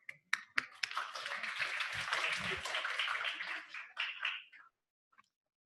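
A class audience applauding in a lecture room, beginning with a few isolated claps that swell into a brief burst of close, moderate clapping and then taper off into near silence.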